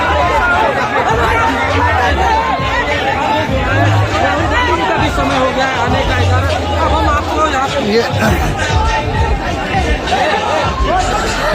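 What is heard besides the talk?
crowd of students chattering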